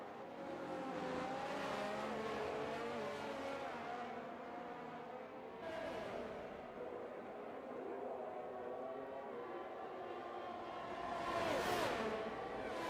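Race cars, among them a Ferrari, lap a track in a Spain GP racing game, with steady engine drone and a couple of louder cars rushing past, heard faintly throughout.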